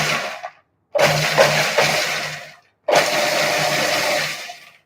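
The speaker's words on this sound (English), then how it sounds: "So let's put them in the food processor with the blade." Food processor with blade pulsing walnuts into small pieces: two loud, gritty whirring bursts of about two seconds each, with a short earlier burst, separated by silences, close and alone.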